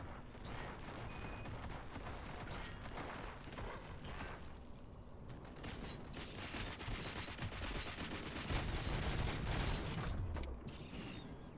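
Dense gunfire in the video game Robocop: Rogue City, a continuous barrage of rapid shots and mechanical clatter mixed with heavy game noise throughout, fairly loud, with no speech.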